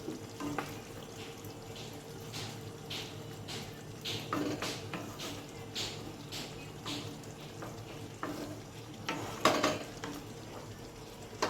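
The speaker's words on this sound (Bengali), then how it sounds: "মাছগুলো দিয়ে একটু মশলার মধ্যে ভালো করে খুন্তির সাহায্যে এইভাবে একটু মেখে দিবেন মশলাটার মধ্যে" A spatula works rohu fish pieces into a masala in a pan for Bengali fish curry, giving soft scraping and gentle sizzling with occasional light clinks against the pan, fairly quiet and steady.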